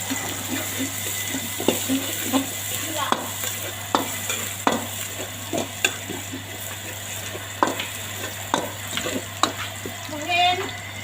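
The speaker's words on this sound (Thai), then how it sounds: "น้ำมันร้อนแล้วผัดกระเทียมให้หอมเลยนะทุกคน" Chopped garlic stir-fries in hot oil in a pan, a steady sizzle broken by repeated scraping clacks of a spatula every second or so, close and clear with no talk.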